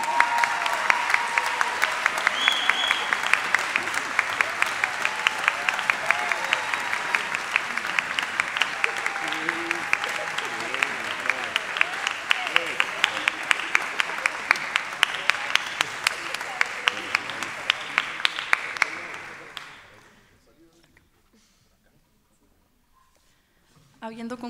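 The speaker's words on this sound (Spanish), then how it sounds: "Un fuerte aplauso para todos." A large audience claps steadily and loudly for a group of university soloists at a 2019 ceremony, the dense applause continuing for about twenty seconds before cutting off into near silence.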